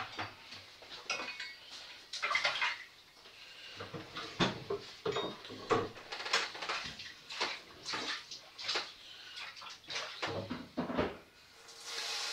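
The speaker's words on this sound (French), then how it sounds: "Rincer ma plaque." A baking tray is rinsed under running water in a kitchen sink, with splashing water and repeated metallic clatters and knocks of dishes and cookware at close range.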